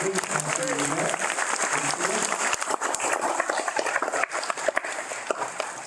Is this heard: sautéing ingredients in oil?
no